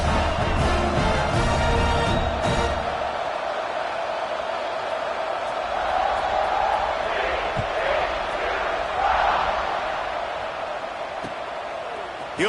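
Stadium crowd in an NCAA football video game, a broad steady roar with brief swells of cheering while a commentator talks over it.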